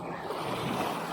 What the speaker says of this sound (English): you kind of get a little bit of wave action here